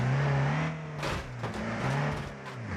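A commercial vehicle in the BeamNG.drive game engine revs and accelerates hard toward a crash test, a loud close droning engine note that rises and shifts pitch with a few sharp bursts.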